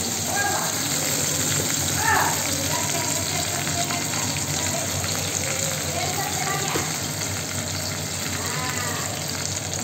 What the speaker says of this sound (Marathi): मग टाकणार कढीपत्ता, हे तूप आहे.